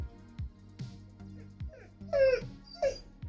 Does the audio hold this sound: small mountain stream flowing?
no